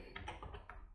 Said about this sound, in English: you just need to type the command